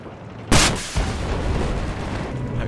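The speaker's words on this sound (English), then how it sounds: "Rocket launcher." A rocket launcher fires in the shooter game Battlefield 4, a single sharp, loud blast followed by a second thump and a lingering rumble of battle noise.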